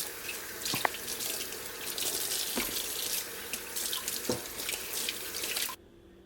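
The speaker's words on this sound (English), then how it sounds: "Yes, I do rinse my seafood off, and yes, I do rinse it in the sink." Tap water running steadily into a kitchen sink while catfish is rinsed, a continuous close splashing stream with a few small clunks and drips, cutting off near the end; no talk.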